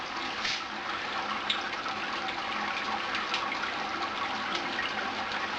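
Wort pours steadily from the mash tun of a smoked amber ale home brew during the sparge, a continuous close splashing trickle of liquid with no talk.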